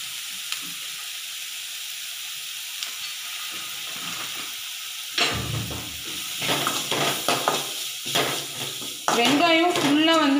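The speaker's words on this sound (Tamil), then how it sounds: "வெங்காயம் ஃபுல்லாக வந்து நம்மளுக்கு வதங்கணுன்ற அவசியம் இல்லை, ஒரு 1/2 குக் ஆனால் போதும்." Onions sizzling in a pan with chilli powder and garam masala for a vegetable samosa filling, with stirring and utensil clinks, faint at first and then louder, with a person talking near the end.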